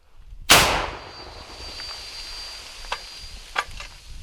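A single powerful L119 howitzer blast booms sharply at the start, followed by a long ringing decay and a couple of faint distant thuds.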